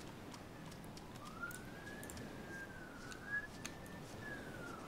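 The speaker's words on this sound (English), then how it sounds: "Fucking sirens everywhere" A siren wails in the video game ARMA 2, its pitch rising and falling steadily at moderate volume against a noisy outdoor backdrop, with a few brief clicks and knocks along the way.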